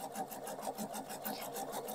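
A sewing machine with a circle attachment stitches fabric for cone-shaped pieces, its quiet, fast, even rhythmic whirr running throughout with no talking.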